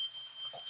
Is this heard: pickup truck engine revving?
no